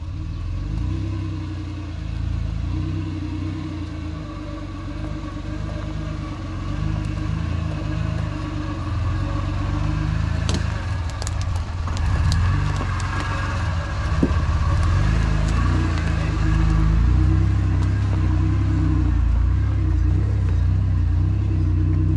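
A car driving up and down rough terrain on a campsite outing, with a steady low engine rumble that swells toward the end as it climbs and revs, heard up close without talk.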